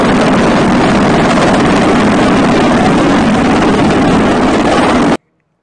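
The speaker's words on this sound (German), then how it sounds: "flieg ruhig hier drüber, Hubschrauber, kein Problem" A helicopter passes overhead, a loud, steady broadband rotor and engine roar that holds for about five seconds and then cuts off abruptly. No one speaks over it.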